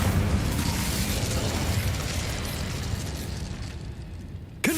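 Incendio, the fire spell in Hogwarts Legacy, roars as a loud, sustained whoosh and crackling burst that holds steady for several seconds before cutting off, with a brief tonal chime at the very end.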